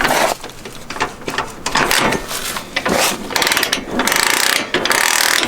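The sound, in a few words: shifter or kickstarter on a 1996 Honda 4x4 ATV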